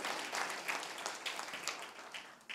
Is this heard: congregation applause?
yes